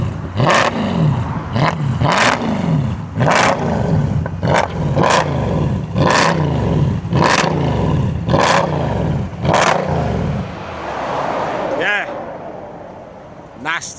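A Mercedes C63 AMG fitted with Alibaba aftermarket headers revs hard in a rapid series of about a dozen loud, close blips, each crack trailing off into burbling, before settling to a lower rumble near the end.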